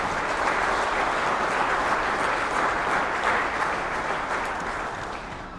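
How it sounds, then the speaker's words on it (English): A large crowd at a county economic development appreciation reception claps for the officials just named, loud and sustained applause that holds steady and then tapers off slightly at the end. "let's give them all a round of applause."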